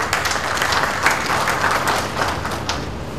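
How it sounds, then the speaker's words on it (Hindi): An audience at an honouring ceremony run by a charitable trust gives a welcoming round of applause, a close, lively crowd of clapping hands with distinct individual claps standing out, steady and unbroken for a few seconds. "जरा तालियों से स्वागत करें भाई।"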